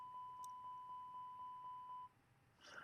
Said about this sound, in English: I just need to test the cargo smoke detectors